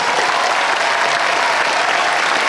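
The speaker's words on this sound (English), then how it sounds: "give them a round of applause" Dense, steady audience applause fills a Star Wars Celebration 2017 panel on the Star Tours Disney Parks attraction, loud and continuous with no voices on top.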